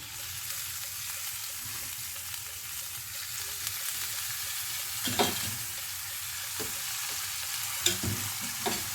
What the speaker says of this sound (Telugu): ఆనియన్స్ మగ్గిపోయాయి కదండి పాలకూర వేసేసుకుందాం